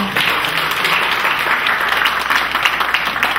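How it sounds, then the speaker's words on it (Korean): An audience at a graduation ceremony applauds in a steady, continuous roar of many hands clapping, loud and close throughout the short stretch. "사랑을 해주신 이문희 회장님께 다시 한번 큰 박수 부탁드립니다"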